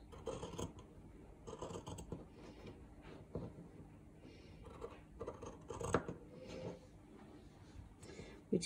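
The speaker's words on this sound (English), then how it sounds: "My huge scissors." Repeated crisp snipping and crunching of large scissors cutting through paper, close up, in irregular bursts with no talking.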